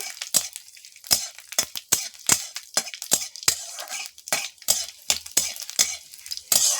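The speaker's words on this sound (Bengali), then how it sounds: "তেলের উপরে আমি একটা তেজপাতা দিয়ে দিলাম আর গোটা লঙ্কা পাঁচ ফোড়ন এটা একটু ভেজে নেব" Bay leaf, whole dried chillies and panch phoron spices spluttering in hot oil make a string of sharp, irregular pops and crackles over a quiet background sizzle, heard up close.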